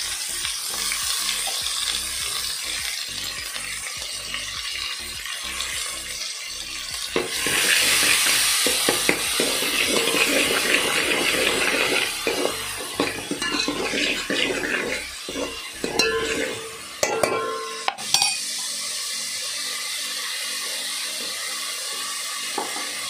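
Chopped onion and tomato fry and sizzle loudly in a pan as they are stirred, a steady close hiss with scraping stirs and a brief clatter near the end.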